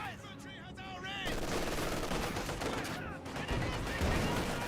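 Gunfire in the World War II strategy game Company of Heroes 2, a dense battlefield clatter of shots running continuously under a commentator's talk, with a brief lull near the end before it resumes.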